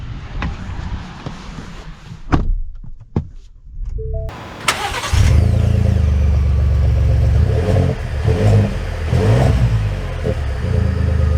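A 2023 Ford Expedition Platinum engine cranks and fires, then settles into a loud, steady run that swells with revs while the SUV pulls away, heard close with a few clunks at the start.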